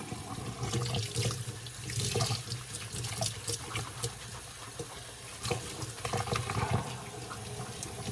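A bathroom tap runs steadily while the water is left to warm up, a continuous close rushing and splashing stream that holds at an even level throughout with no talking.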